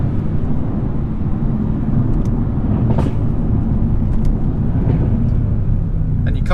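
A 2017 Mercedes C63S on the move, its engine droning with a steady, loud low rumble from inside the car, plus a few brief sharper crackles.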